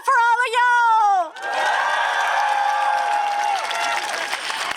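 Outdoor crowd at a Queer Pride event in Groningen, 2021, breaking into sustained applause and cheering after a loud amplified voice; the clapping and whoops hold steady for several seconds.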